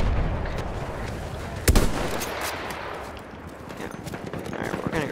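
Gunfire in a sniper video game: one sharp, loud shot cracks out near the middle over a dense rumbling battlefield bed of distant firing, with no clear talk.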